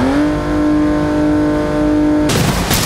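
A Toyota Supra engine in BeamNG.drive holds a steady, loud droning rev with strong harmonics, then cuts abruptly into a broadband burst of noise near the end, with no one speaking.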